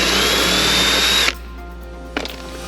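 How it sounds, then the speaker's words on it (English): A power drill fitted with a 3/16 bit grinds steadily through the back of a rivet for just over a second, then cuts off, leaving a quiet pause and a brief light clatter near the end. "You'll use that 3/16 bit and you'll take just the back of the rivet off."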